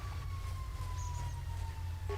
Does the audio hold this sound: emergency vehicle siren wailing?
yes